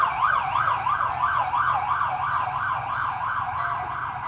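An emergency vehicle siren wails loudly and continuously, rising and falling in a fast, regular cycle that dominates the whole stretch.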